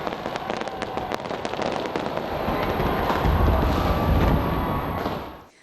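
Half a tonne of New Year's Eve fireworks bursting from Auckland's Sky Tower above the city centre as large crowds celebrate, a dense continuous crackle of explosions with deep booms swelling louder near the end before cutting off.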